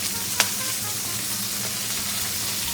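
Pork tenderloin sizzles and spits in a hot frying pan, a steady close-up hiss with a sharp pop of splattering fat early on and a smaller crackle later, no voices over it.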